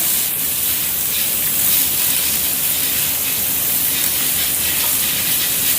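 Continuous loud, even hiss of steam and sizzling as ice melts on a hot pan while pork belly grills, holding steady throughout with no talk.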